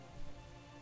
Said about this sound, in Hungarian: Esik az eső.